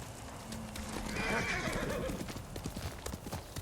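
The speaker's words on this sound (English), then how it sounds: "But you're also a sturdy horse." Quick hoofbeats clip-clop at a steady pace, and a horse whinnies partway through, in the video game Ghost of Tsushima.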